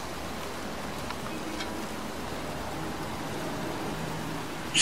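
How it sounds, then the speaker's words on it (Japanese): Steady rain falls in the video game Heavy Rain, a constant even hiss that holds at the same level throughout with no talk over it, until a brief louder burst right at the end. "寒いし雨だし外でびしょ濡れだ"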